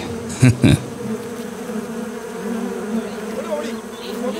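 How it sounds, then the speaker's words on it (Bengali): A swarm of wasps descends on a boat in a Bengali horror tale, giving a steady droning buzz throughout with a couple of sharp louder bursts near the start. "সবাইকে চমকে দিয়ে একদল বোলতা এসে নৌকোর উপর চড়াও হয়ে সবাইকে কামড়াতে লাগলো"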